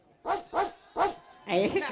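A voice imitates a dog barking, giving three quick woof-like yelps followed by a longer whining bark, close and loud in short bursts.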